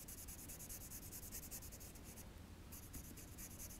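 Pencil colouring on paper, filling in a drawing for an art lesson: a steady, close scratchy rubbing with continuous back-and-forth strokes and a brief lighter pause near the end.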